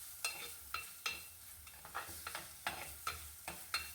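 Shallots and dried fish for a curry base sautéing in a pan: faint, steady sizzling under a regular rhythm of spatula scrapes and stirs, roughly two per second.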